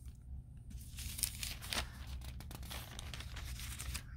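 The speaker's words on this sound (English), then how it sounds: "Way too many pages turned there." Paper rustles and crinkles as several pages are flipped quickly, close and fairly quiet, with soft swishes and crisp flutters.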